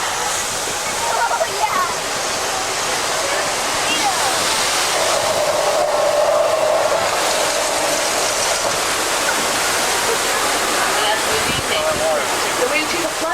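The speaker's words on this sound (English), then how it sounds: "There's a flash flood coming straight towards you guys." A flash flood water effect on a studio tram tour, a heavy continuous rush of cascading water roaring loudly and evenly, with a faint tonal hum midway and riders' voices partly under the torrent.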